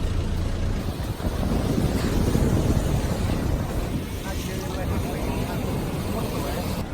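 Strong sea waves roll onto a rocky shore in the Marshall Islands under gusting wind, a continuous loud roar with a slight surge early on.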